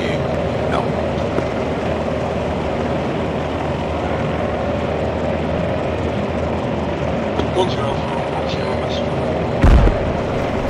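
A steady rumbling engine drone fills the scene in a military video game, broken near the end by a single sharp, booming explosion; voices talk over it.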